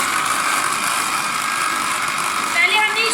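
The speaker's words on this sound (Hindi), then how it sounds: "बंद करते हैं ब्लेंडर को और चला देते हैं।" An electric blender making garlic sauce whirs with a loud, high-pitched grinding noise that stays steady throughout.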